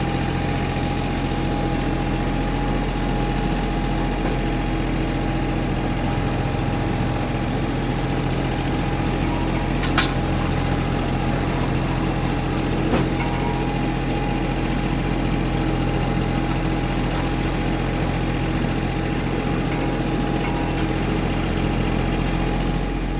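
A tractor fitted with a King Kutter 3-point blade idles with a steady, low, droning engine hum as it backs up, constant and close with no clear revving, ending in a couple of faint clicks.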